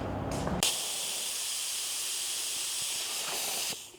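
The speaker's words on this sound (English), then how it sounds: "With this gun, I use about 14 psi with the sealer." A spray gun lays down sealer at about 14 psi, releasing a loud, continuous hiss that starts abruptly, holds steady for a few seconds and then cuts off.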